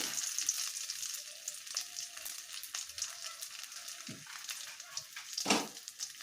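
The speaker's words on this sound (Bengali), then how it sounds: "এবার আমি এখানে কালো জিরে দিয়ে নেব" Black cumin (nigella) seeds sizzle in hot oil in a home kitchen, a steady bright crackle with a few louder pops and brief stirring knocks, close and unaccompanied by talk.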